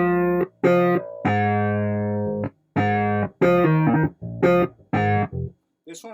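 A Patch 2000 synthesizer patch played as a series of sustained bright notes with a strange delay effect, each tone held then cut off, loud and alone with short gaps between.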